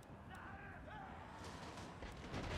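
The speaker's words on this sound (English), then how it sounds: "Those are hand cannons." Hand cannons firing in the Total War: Warhammer II battle, a dense stream of overlapping gunshot-like bangs and rumble, with voices talking over it.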